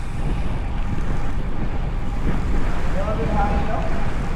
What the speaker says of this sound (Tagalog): Sobra yung hangin ngayon